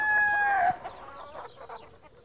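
Backyard chickens kept for eggs cluck and squawk close by, one loud sharp call followed by softer, rapid clucking that fades out.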